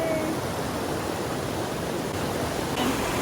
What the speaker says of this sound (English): But now we have a waterfall.